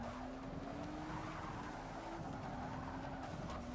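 A Ford GT race car in the Forza 6 racing game, its engine a steady sustained drone with a faint rising and falling pitch, quiet and continuous with no talking.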